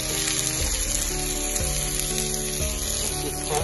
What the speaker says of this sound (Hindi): इसको हमने फ्राई करना है अच्छे से